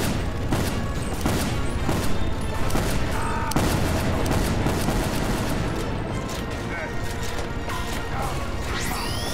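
Dense, continuous gunfire and crashing impacts from the Inversion shooter, with repeated sharp bursts layered over game effects, and a voice talking intermittently underneath.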